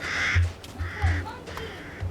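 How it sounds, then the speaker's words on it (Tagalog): Crows cawing in the horror video game Resident Evil Village, three or four harsh caws spaced about half a second apart, fairly close and clear over a low ambient hum. "May lumilipad ng mga uwak."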